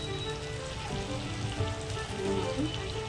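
Whole masoor lentils steam-cooking in a pan give off a steady soft sizzle and bubbling hiss, close and even throughout with faint pops.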